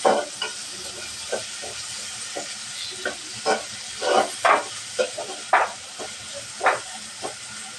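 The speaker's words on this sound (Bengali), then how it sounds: "পেঁয়াজটা ভালোভাবে ভেজে নেব" Chopped onion and sliced chilli frying in oil in a pan for a hilsa fish curry, a steady close sizzle broken by repeated bursts of louder hiss and scraping as the pieces are stirred.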